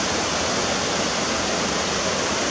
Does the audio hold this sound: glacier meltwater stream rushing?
yes